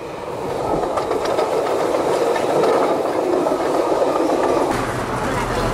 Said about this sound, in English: Crossing rivers is always exciting, even more so from the back end of the train.